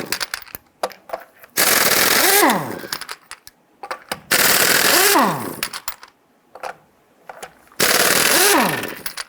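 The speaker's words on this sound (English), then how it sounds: "Using your 19mm socket, loosen and remove your lug nuts." A power tool with a 19mm socket spins lug nuts off a 1994-2004 Ford Mustang front wheel in three loud, close bursts of rattling and whining, with quieter clicks and taps between them.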